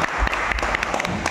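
An audience bursts into loud, dense applause for Pak Hendra at a live Rubik's cube event, a close, continuous rattle of many clapping hands lasting just over a second.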